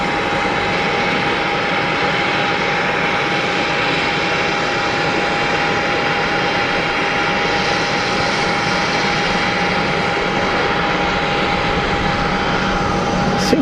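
A Gulfstream business jet landing at Geneva Airport, its engines giving a loud, steady roar that holds without a break close by.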